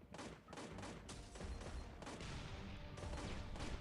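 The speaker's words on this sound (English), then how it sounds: "Somebody shooting at them." Gunfire in the mobile strategy game Call of Duty Heroes, with rapid overlapping shots and bursts in a continuous fusillade, steady and fairly loud throughout.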